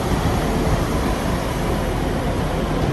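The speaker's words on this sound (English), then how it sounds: "the train to Blackpool is approaching" A train rolls into a station platform on the service to Blackpool, a steady broadband rumble and roar that stays loud and even throughout with no voices.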